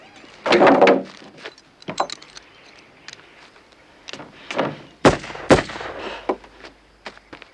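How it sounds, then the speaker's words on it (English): A door is shut in a quiet indoor scene from the 1973 film Badlands, with soft shuffling and rustling, then two sharp thuds close together near the end, followed by a few faint knocks. "I'm gonna shut the door."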